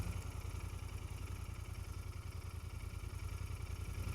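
A Royal Enfield Continental GT650 motorcycle cruising on a motorway around 4,500 RPM, a steady, fairly quiet pulsing engine hum with a constant throb and no changes in pace.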